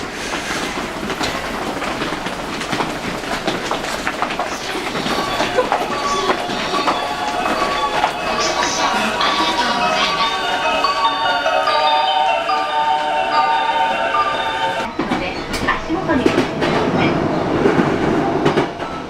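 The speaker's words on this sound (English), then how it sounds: "I'm gonna have to run. My train just showed up." A train near Yokohama, Japan rumbles loudly with clattering wheels and a rising metallic whine as it arrives, running steadily close by without any talking.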